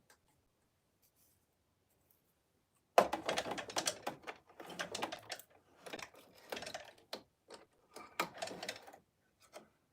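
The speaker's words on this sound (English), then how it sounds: "So now we will stitch around the roof and do a little stitching around the wreath." A sewing machine stitching around a fabric stocking ornament, starting after silence with rapid rhythmic ticking runs in several bursts and short pauses between them, close and moderately quiet.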